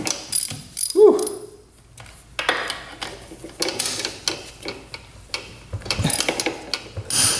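Wrench ratcheting and clicking on bolts of an old motorcycle that sat for 27 years, close and fairly quiet, with irregular bursts of metallic ticks separated by short pauses.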